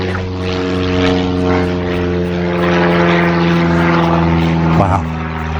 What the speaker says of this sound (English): You can see a plane just above us there.